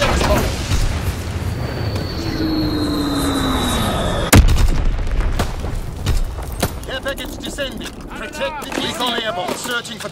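Bombing-run explosions in Call of Duty: WWII: a sustained rumbling barrage with one sharp, loud blast in the middle, followed by scattered booms and crackles under voice chatter.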